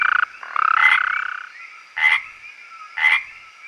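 A frog croaks while sitting at the edge of a big pit: a close, loud rattling trill, then two short, sharp croaks about a second apart, with nothing else heard.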